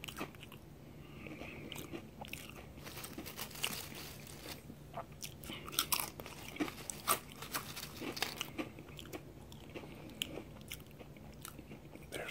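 Close, crisp crunching and chewing of Jack n Jill Piattos sour cream potato chips, with sharp bites scattered irregularly through a quiet, intimate mouth-sound background.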